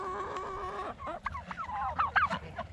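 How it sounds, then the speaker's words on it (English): Turkeys gobble in a quick burst of warbling calls on a muddy farm at feeding time, close and moderately loud with no talk. "Here, turkeys go crazy."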